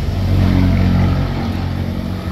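A VEVOR Z-axis power feed motor runs at low speed, giving a steady, close, droning hum with a low mechanical tone. The hum is slightly fuller at first and then settles evenly, with no talking.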